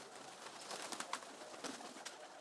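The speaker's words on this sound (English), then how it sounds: "We try and raise pigeons" Pigeons coo softly in a loft in a faint, distant murmur over steady background hiss, with no talk.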